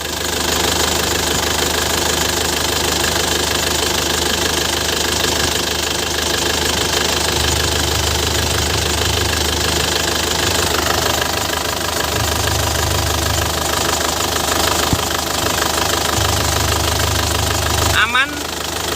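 Warm engine of a 2012 LS Turbo car idles close up with a steady, even rumble and slight ticking, loud and continuous, with a brief clatter near the end.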